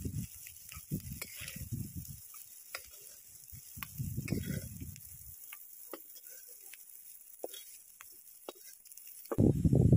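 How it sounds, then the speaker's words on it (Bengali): Bilimbi fruit dropped into a hot kadai still oily from frying prawns, giving a steady, soft hiss of sizzling with occasional light clinks and stirring scrapes, close by, no talking. "ওই একই কড়ার মধ্যে দিয়ে দিলাম বিলম্বী।"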